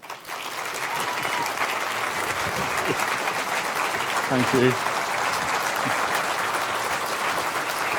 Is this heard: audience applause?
yes